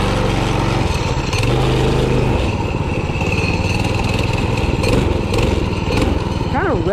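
A small minibike engine runs loud and close, burbling at idle and then revving up and down in sharp rises, with people talking over it.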